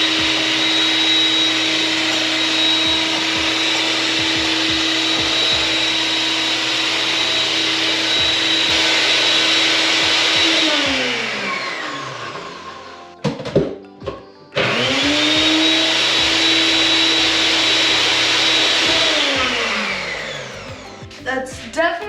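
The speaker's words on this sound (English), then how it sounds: "now I'm gonna go put this on the blender" A kitchen blender whips coffee in two long runs, a loud steady whir with a high whine. It winds down near the halfway point, sputters briefly, restarts and winds down again near the end.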